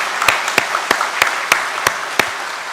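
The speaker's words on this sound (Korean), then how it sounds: "우리 늘 평안하시도록 우리 박수로 환영하고 격려하겠습니다." A church congregation's applause welcoming visitors at a Sunday service: soft, fairly even clapping punctuated by a few sharper, louder claps spaced roughly a third of a second apart.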